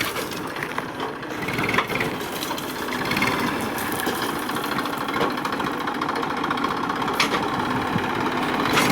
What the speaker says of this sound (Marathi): काहीच आता श्रीधर चालू केला आहे ट्रॅक्टर.